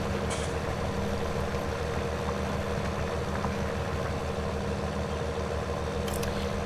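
Tractor engine in a farming video game straining at maximum speed while pulling a heavy load, a steady loud drone with a continuous low rumble that runs throughout without a break.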